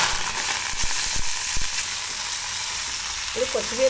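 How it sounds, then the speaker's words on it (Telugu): Coriander leaves frying in oil in a pan for a coriander and raw tamarind chutney, giving a steady close hiss of sizzling with a few soft stirring knocks and no speech. "కొత్తిమీర చాలా నూనెలో బాగా మగ్గింది కదండి"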